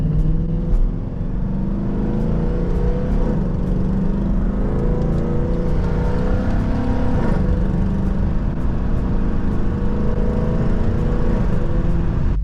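A Toyota Corolla engine revs and accelerates with a rough, uneven note from a light misfire and leaks, droning steadily and loud throughout with faint ticking above.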